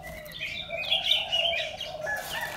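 Hồng tước birds, red males and yellow females, give high, repeated chirps and thin whistled tweets, fairly close and clear over a soft background hiss.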